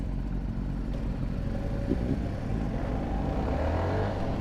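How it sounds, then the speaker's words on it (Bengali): A CF Moto 250cc NK naked motorcycle with a single-cylinder engine rides through a Malaysian city at night, its steady engine drone and road rumble continuous and close throughout. "এটা হলো সিএফ মোটো 250 CC NK naked version. 250 CC single cylinder ইঞ্জিনের একটি বাইক।"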